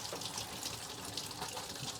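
Water runs steadily from an RV bathtub faucet, a continuous hissing gush that stays even and moderately faint for the whole stretch, with no voices over it.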